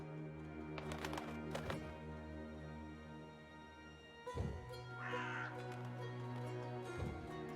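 A crow caws a few times in the fantasy video game Dreamfall Chapters, harsh calls over a droning music bed, with a brief whoosh partway through.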